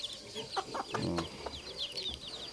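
Chickens clucking nearby in short, irregular bursts, with high chirping birds in the background throughout.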